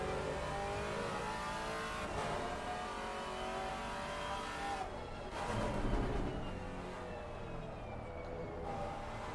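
GT4 race cars in Assetto Corsa Competizione roar steadily around Brands Hatch while lapping a BMW, with a dense, continuous engine drone that swells slightly midway and carries no talk.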